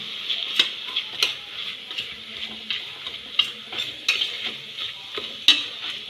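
Chicken pieces and ground masala stirred in a pan for Kerala-style chicken chaps, with repeated scraping spoon strokes and clinks over a steady sizzle, close and fairly loud, no talking.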